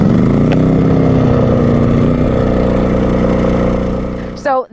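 Onan RV generator engine with a freshly cleaned carburetor running at a steady, loud drone that holds even throughout, with a brief higher sweep near the end.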